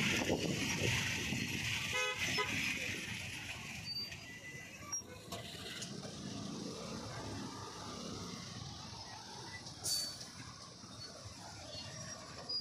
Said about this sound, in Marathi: वाघोलीची ट्रॅफिक